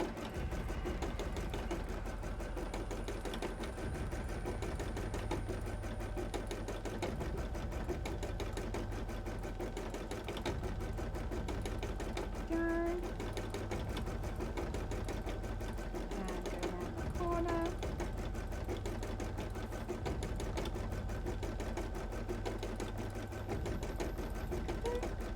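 An embroidery machine stitches cosplay pieces with a steady, fast mechanical whir and rapid needle rhythm that runs unbroken throughout, with a couple of brief higher tonal chirps partway through.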